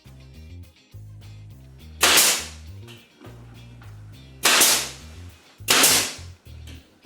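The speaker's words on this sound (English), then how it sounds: "We're going to glue and brad nail it." Brad nailer driving nails into wood for a wine bottle and glass display handle, three sharp loud cracks spaced a couple of seconds apart over a steady low background hum.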